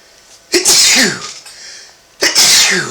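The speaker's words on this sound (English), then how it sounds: "that was a sneeze" Two loud, forceful sneezes burst out close by, roughly a second and a half apart, each with a sharp explosive onset and breathy tail.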